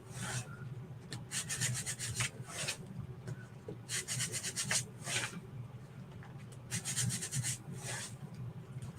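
A sticky Chalk Couture transfer stencil is rubbed to fuzz it, giving close, rhythmic rasping strokes in repeated bursts with short pauses between them, and no talking.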